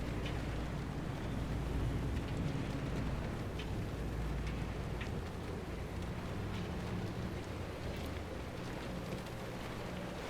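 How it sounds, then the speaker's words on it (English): Rain falls in the Pacific Drive video game as a dense, continuous hiss with a low rumble underneath, steady and fairly loud with no voices. "the rain is back"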